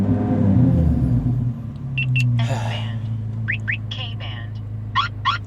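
A Corvette C8 Z06 fitted with an Eventuri intake fires up from cold, a loud low engine rumble building and then settling into a steady idle drone, with brief high chirps and a voice over it.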